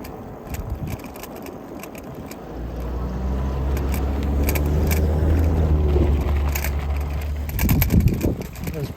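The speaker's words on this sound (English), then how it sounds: "Traffic." A car passing close to a trailhead, its rumble swelling over a few seconds and then fading, with light rustling and clatter from nearby movement at the start and end.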